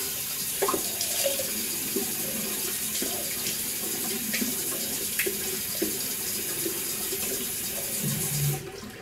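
Cold water pours from a bathroom tap in a steady, continuous stream before a wet shave, with faint splashing and clinks over it and a brief change near the end.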